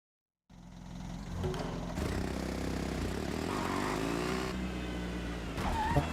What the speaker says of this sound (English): That's an engine sound.